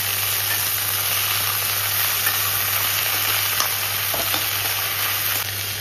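Mixed vegetables sizzling and frying steadily in a pan, a continuous close hiss with faint stirring scrapes and no talk.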